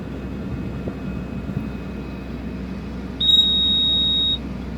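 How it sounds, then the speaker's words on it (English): On a Grove RT9150E crane with the ignition switched on, a steady high electronic beep sounds for about a second over a constant low hum of machinery. "once you hear that second beep, then you can go ahead and start up your engine"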